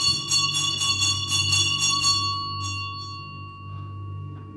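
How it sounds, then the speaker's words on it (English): A bell rings in rapid, repeated bright strokes during a stage scene from Macbeth, loud and clear, then slows and fades into a lingering hum. "The bell invites me."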